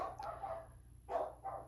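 Pet dogs barking indoors at a passing delivery truck, a few quick sharp barks in two short bursts, fairly close and with no talk over them.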